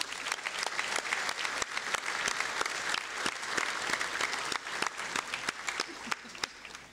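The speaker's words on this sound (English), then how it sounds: "let's give them a big round of applause" Audience at a charity breakfast applauding its sponsors, a steady round of distinct claps, moderately loud and close, sustained for several seconds.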